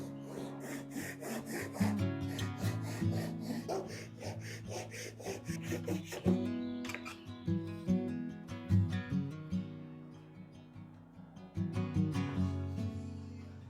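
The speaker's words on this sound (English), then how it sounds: "I'm using a Japanese pole saw with a really small kerf and that magnetic saw guide to keep the cut as straight" A Japanese pull saw with a very thin kerf, run along a magnetic saw guide, cuts wood for an engagement ring box. Its rhythmic rasping strokes come in close, quiet bursts with brief pauses and no talking.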